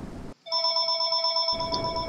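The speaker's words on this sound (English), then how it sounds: "my phone's ringing" A mobile phone ringtone rings indoors, a steady electronic tone pattern that briefly cuts in and then sounds clearly and loudly for about a second before other sound returns.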